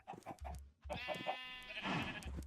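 Sheep in a farming video game bleat a few times, several short calls and one longer quavering bleat, clear and close over a quiet background.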